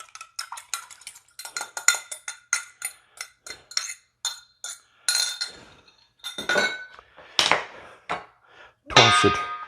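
Utensils tossing a protein-packed Greek salad in a bowl produce a quick, uneven series of close clinks and scraping knocks, with short pauses between bursts.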